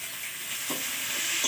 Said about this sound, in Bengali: পেঁয়াজটিকে ভেজে নিচ্ছে